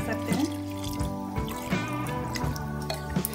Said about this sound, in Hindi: मैं थोड़ा ज़्यादा डाल रही हूँ, चावल पानी ज़्यादा डाल रहे हैं